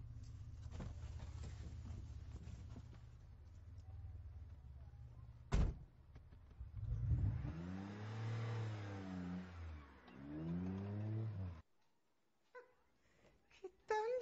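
A car engine idles and rumbles nearby, then revs up in rising and falling swells after a sharp door-like slam, before cutting off into quiet with a few faint knocks.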